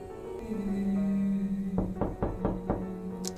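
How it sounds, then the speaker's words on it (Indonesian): Four firm knocks land in a quick, slightly uneven run near the end, over a steady sustained musical drone, followed by a brief high chime. "Ada suara ketok-ketok."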